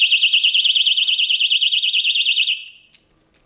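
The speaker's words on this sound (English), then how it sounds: "When the bike is disturbed, you get the warning beeps and then that 120 decibel alarmed unit." A Kovix KD6 zinc-alloy alarmed disc lock for a motorbike sounds its 120-decibel alarm: a loud, piercing warbling electronic tone that pulses rapidly and steadily for about two and a half seconds before cutting off, followed by a brief chirp.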